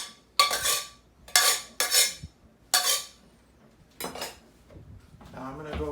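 A dish clatters and scrapes across a kitchen counter during potato gratin prep with a cream mixture, giving four or five sharp, close clinks and knocks spaced about a second apart.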